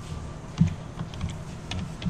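Someone types CSS code on a computer keyboard, giving a run of light, uneven key clicks with one heavier tap, close and fairly quiet, with no talking.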